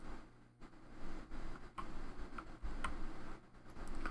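Quiet, crisp clicks of typing on a very sensitive computer keyboard, irregular keystrokes tapping at close range over a low background hum.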